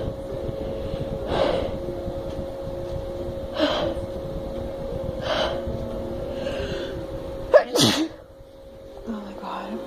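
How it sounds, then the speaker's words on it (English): Sneezes after a pinch of snuff, several breathy bursts spaced a couple of seconds apart over a steady background hum, ending in a sharper explosive sneeze with a gasp, then a brief quieter breath. "I can still feel the burn, so I'm guessing I could get some more sneezes out."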